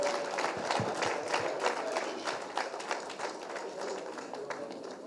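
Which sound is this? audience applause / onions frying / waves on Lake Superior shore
audience applause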